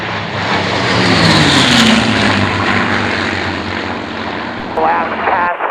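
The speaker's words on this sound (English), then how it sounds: "Mustang running in." A Mustang propeller fighter passes at the Duxford air show, its engine drone swelling loud and Doppler-shifting as it runs in, then fading, with a voice heard briefly near the end.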